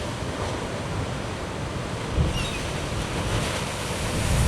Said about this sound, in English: there should be another one of those big waves coming along.